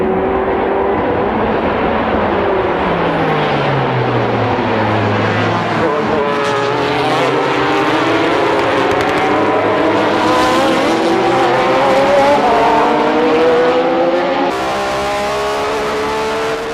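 Honda NSX race cars roar past at a JGTC race, engines rising and falling in pitch as they sweep by, loud and continuous, with a commentator talking over them.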